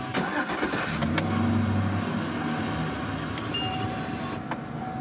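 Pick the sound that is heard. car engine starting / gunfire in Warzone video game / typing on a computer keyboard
car engine starting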